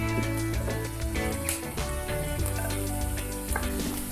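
Onion and carrot fry in hot oil in a pan, giving a steady close sizzle that runs without a break through the whole stretch, with music playing underneath.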